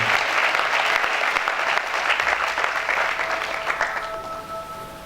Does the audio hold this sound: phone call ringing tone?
no